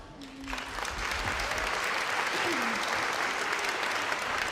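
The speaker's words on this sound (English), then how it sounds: "Please give us a round of applause, everyone." Sustained applause from a crowd at a charity event fills the room for orchestra members, steady clapping rising quickly and holding, with a few faint voices beneath.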